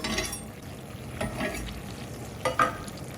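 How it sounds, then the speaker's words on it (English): Vegetables sauteing in rendered meat grease for a homemade chili, a steady low sizzle with occasional stirring scrapes and clinks in the pan, close and moderately quiet, no talking. "he is using the grease from the meat to saute the vegetables in"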